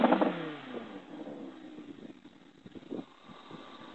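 The 540-horsepower V10 of an Audi R8 V10 Spyder revs in a loud burst that winds down into a lower idle, then briefly rises again, heard close and alone.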